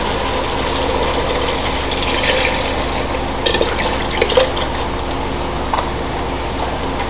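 Seafood stock pours from a carton into a cooking pot for lobster bisque, a steady liquid gurgle and splash running the whole time over a low kitchen hum, with a few small clinks near the end.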